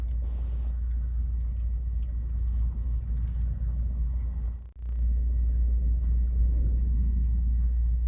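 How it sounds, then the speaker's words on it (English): Airport vehicle driven around on the beach runway on the Isle of Barra, a steady low engine rumble heard at a distance with wind, dipping briefly midway before swelling again. "Throwing the company vehicle around like that."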